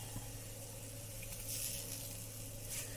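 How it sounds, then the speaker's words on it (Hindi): Wheat flour roasting in ghee for a ginger halwa gives a faint, steady low sizzle with a soft background hum, quiet and even, ending in a brief clatter as ginger goes in. "आटा हमारा आधा भून चुका है, इस स्टेज पे हम अदरक डालेंगे"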